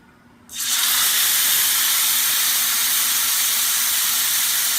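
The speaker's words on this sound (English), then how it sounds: "Okay, so we're gonna hear some sizzles." A loud, steady hiss starts suddenly and holds without letup, like strawberry sriracha chicken hitting a hot pan and sizzling continuously up close.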